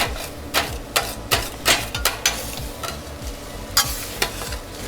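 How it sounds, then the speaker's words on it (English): Duck eggs scramble in a hot pan under a low sizzle while a utensil scrapes and taps against the pan in quick irregular strokes, close and clear, with no speech. "So what you're going to do is just start moving your eggs around."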